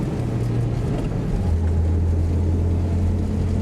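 A Volga GAZ-24 car drives with its engine droning low and steady, rising slightly in pitch as it accelerates, heard from inside with a constant rumble and no speech.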